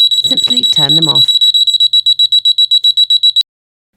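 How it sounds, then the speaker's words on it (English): A DRI Sleeper Eclipse bedwetting alarm and its parental monitor alarm sound together, a loud rapid pulsing high-pitched beeping that runs for several seconds before stopping abruptly, with a voice speaking briefly over the start. "when the sensor detects moisture, both alarms will trigger"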